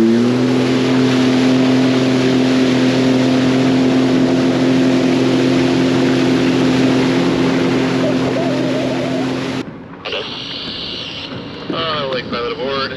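A large cargo ship, the Federal Kushiro, passes close by with a loud, steady low engine drone and strong tonal hum, overlaid with wind noise, until it cuts off abruptly near the end and quieter background sounds take over.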